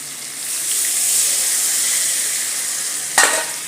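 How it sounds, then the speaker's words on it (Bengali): Water hits a hot pan of spiced chilli cauliflower and a loud, steady sizzle carries on throughout. A short clatter sounds near the end. "এবার আমি এটার মধ্যে একেবারে জল দিয়ে দিচ্ছি"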